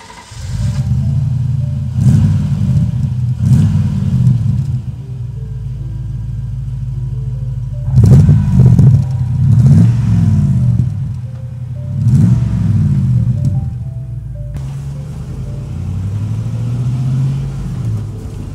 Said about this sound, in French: On vous parle depuis le début de la sonorité de ce V8.